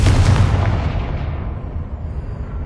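A Confringo blasting spell detonates in Hogwarts Legacy: one loud, close explosion with a deep booming onset that rumbles and fades over a couple of seconds.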